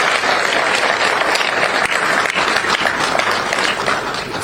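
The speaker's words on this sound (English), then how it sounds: "he deserves another round of applause" Applause from an audience at a presidential end-of-year press conference, a dense, steady wash of clapping that holds loud and even for the whole stretch.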